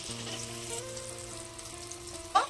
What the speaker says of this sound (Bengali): আলুগুলো একদম নুন হলুদ দিয়ে ভালো করে ভেজে তুলে রাখবো।